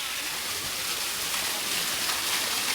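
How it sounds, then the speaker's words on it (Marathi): A small waterfall at Raigad fort rushes in a steady, even hiss of falling water, close and continuous with no pauses. "धबधबा आहे धबधबा. छोटासा धबधबा आहे."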